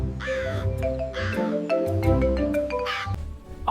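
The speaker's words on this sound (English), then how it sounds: "P is for paradise crow." A paradise crow gives several loud, harsh caws in a row, close and clear, each call rough and nasal with short gaps between.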